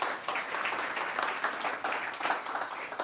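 Steady audience applause for a startup competition jury, dense and sustained clapping from a crowd with no talking over it.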